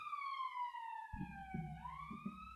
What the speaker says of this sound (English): Yeah, you'll probably hear the siren in the background.